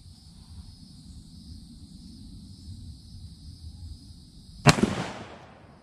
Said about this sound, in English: we have already loaded. We have one in the chamber. And let's take our first shot here,